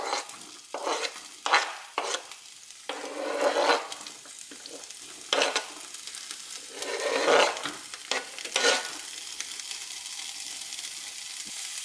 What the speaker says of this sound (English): It's well and truly sizzling away, so I'll put on the fan and give it a stir